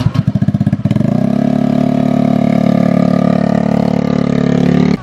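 An old, worn-out motorcycle engine sputters in uneven pops, then settles into a loud, steady running drone close by as it strains under a heavy load.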